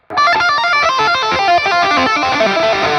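Electric guitar with P90 pickups through a digital amp's room reverb setting plays a dense sequence of notes and chords, loud and sustained, with a roomy reverberant tail blending the notes together.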